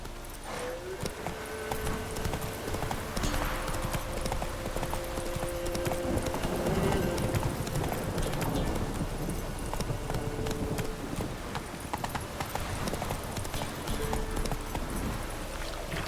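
Roach, a horse in The Witcher 3, gallops in steady clip-clop hoofbeats that run the whole time, loud and close over game ambience and a low music bed.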